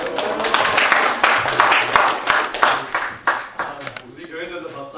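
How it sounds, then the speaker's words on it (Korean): An audience in a church claps, a dense, loud patter of many hands over about five seconds that thins toward the end. "오늘도 박수 쳐주셔서 너무 감사합니다."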